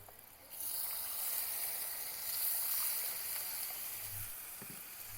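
Spices sizzle in oil with water added in a rustic village kitchen, a faint, steady hiss with a soft low thump near the end.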